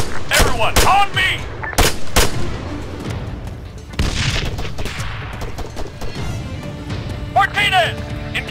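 Arma 3 battlefield: loud bursts of machine gun fire and heavy single reports come in clusters, mixed with booming impacts and shouted voices calling out between the shots.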